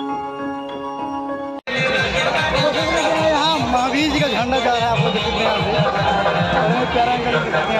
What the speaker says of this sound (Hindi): मैं फाइनली आ गया हूँ आज अपने गांव के मेला में घूमने